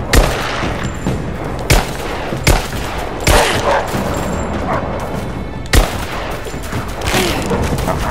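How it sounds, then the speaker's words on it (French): Gunfire from Rise of the Tomb Raider: about five sharp, loud shots at irregular intervals over a steady game ambience, with no talking. "Hop là, le flingue."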